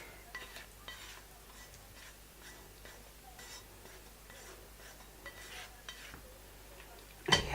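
Someone stirs and mixes ingredients together in a cooking pot, making soft repeated scraping and clinking strokes at a gentle, irregular pace, quiet and close, ending with a sharper clank.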